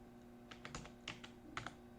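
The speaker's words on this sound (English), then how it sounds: "I'm just typing it here." Quiet keystrokes on a computer keyboard while Python code is typed, coming as a few irregular clusters of soft clicks with no talking.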